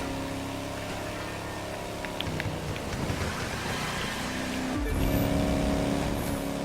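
A race car engine overtaking in the video game The Crew 2 keeps up a steady roar with shifting pitch, with a sharp swell near the end as it pulls past.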